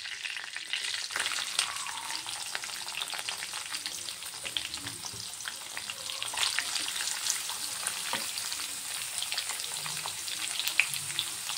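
Chopped onion frying in a pan, a continuous crackling sizzle with dense small pops throughout at moderate volume, no voices.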